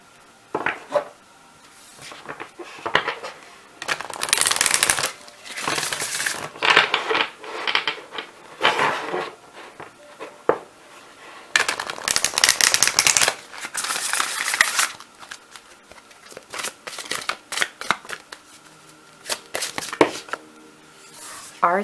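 Tarot cards are shuffled close up in repeated bursts of crisp riffling and flapping, separated by brief pauses, with some quiet talking between the bursts.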